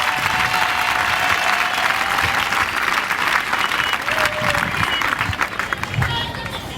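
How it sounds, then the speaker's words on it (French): A church congregation at a prophetic worship service applauds loudly and continuously, thick crowd clapping with some cheering and murmur mixed in, close and filling the space. "Est-ce que vous pouvez applaudir pour vous-même?"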